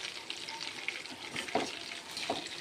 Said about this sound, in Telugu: ఫిష్ వన్ సైడ్ అయితే కుక్ అయిందండి. టర్న్ చేసుకోవాలి జాగ్రత్తగా